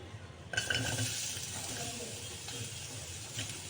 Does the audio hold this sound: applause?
no